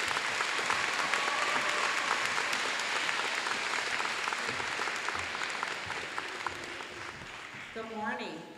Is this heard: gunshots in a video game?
no